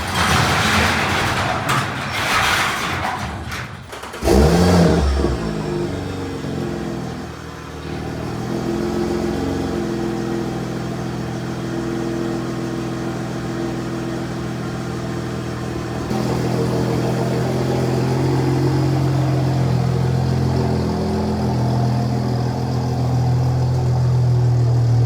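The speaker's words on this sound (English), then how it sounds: "I'm gonna have to get the car out of the garage so we can enjoy a little cold start." A car in a garage cold-starts with a sharp cranking burst, then settles into a steady idle that steps up to a higher, louder fast idle partway through, with some clatter early on.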